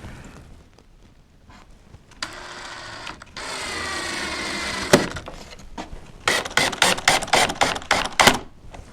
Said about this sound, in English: I do like to use a drill instead of an impact on these.